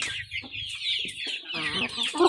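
Pet chickens kept in a cage cluck and squawk close by in short, overlapping calls, with a busy flutter of voices and no human speech.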